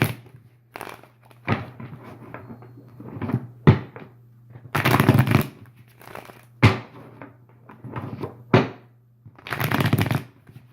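A Universal Waite tarot deck being shuffled by hand in repeated riffling bursts separated by short pauses, close and crisp, with a steady low hum underneath.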